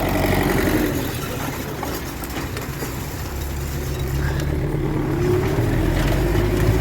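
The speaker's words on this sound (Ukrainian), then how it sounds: "Сіємо трактор МТЗ і сівалка, другий МТЗ, сівалка Гринклей." An MTZ tractor engine drones steadily and loudly while sowing with a seed drill in a field, a constant low rumbling hum with no breaks throughout.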